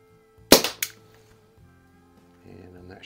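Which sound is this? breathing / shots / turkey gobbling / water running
shots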